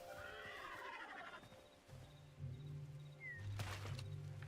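Horse neighing in the video game Hytale, a single whinny rising out of a steady game ambience, moderately loud, followed by low rumbling background sound.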